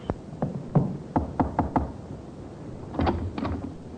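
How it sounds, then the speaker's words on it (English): Knocking on an apartment door on a second-floor front landing in an old radio crime drama: a firm group of four raps, then a second group of three raps, close and alone with no talk. "The sergeant knocked on the door of the second floor front."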